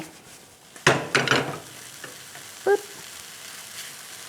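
Rice and pork are stir-fried in oil in a Korea Kind Dia pan for Thai olive fried rice. A steady sizzle runs beneath a few sharp scrapes and clanks of a utensil against the pan, close and clear, with no talk.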